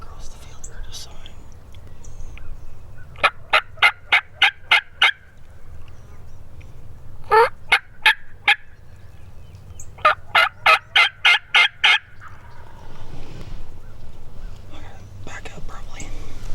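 A wild turkey tom across a field gobbles in three rapid rattling bursts, loud and carrying, with a hushed voice whispering between calls.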